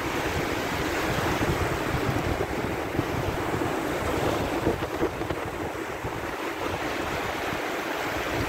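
Steady surf rolls onto a beach at Bizerte, Tunisia, a continuous broad wash of breaking sea waves with wind buffeting the microphone, loud and unbroken throughout with no voices.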